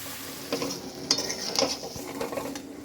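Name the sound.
frying and stirring prawn curry with potatoes in pan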